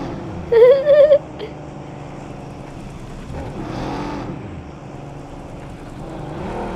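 A car in PUBG Mobile driving into a school building, its engine droning under a brief burst of high-pitched game sound, then a swelling motor rumble that rises and fades, with no one talking.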